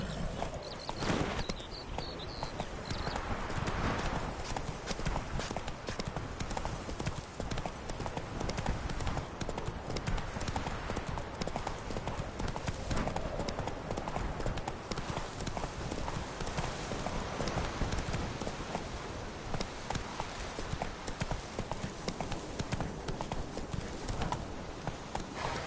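Hooves of Roach, the horse in The Witcher 3, trot in a steady, continuous clip-clop for the whole stretch, even and moderately loud against a dense game backdrop.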